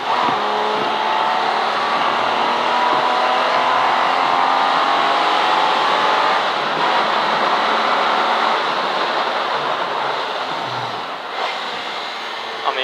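A V12 race car engine howls steadily at high revs around Silverstone during a CSCC Modern & Future Classics race, loud and close from onboard, pitch rising through the gears with brief shifts.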